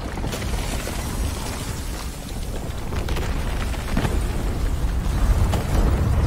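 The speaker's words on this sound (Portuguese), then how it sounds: "Explosão energética!" An energy explosion attack in Devil May Cry 5, a loud, sustained roaring blast with deep rumbling low end that swells and builds in intensity over several seconds, with no talking over it.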